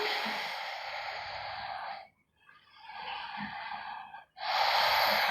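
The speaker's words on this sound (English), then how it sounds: "Slow the breathing." Slow, deep breathing during an intermediate-level guided yoga pose: two long, steady breaths, each a drawn-out airy rush, with a short pause between them, close and fairly loud with no talking.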